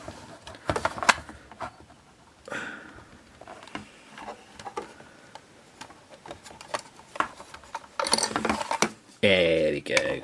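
Hand-working a stuck screw on a vintage 12-inch Boba Fett figure: scattered clicks, ratcheting scrapes and plastic creaks close up, with a few brief louder scraping bursts toward the end.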